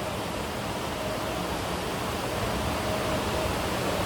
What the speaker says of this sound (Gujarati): વરસાદ એટલો બધો ચાલુ થઈ ગયો છે કે સામે કાંઈ દેખાતું નથી